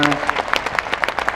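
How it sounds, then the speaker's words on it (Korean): Brief burst of clapping from an indoor audience applauding journalists at a Korean parliamentary audit event, a quick run of distinct, fairly close hand claps at an even pace. "취재진들에게도 여러분 박수 부탁드리겠습니다"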